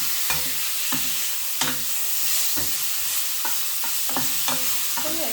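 Vegetables and prawns sizzle in oil in a pan, a steady hiss broken by regular scraping knocks of a utensil stirring, close and alone.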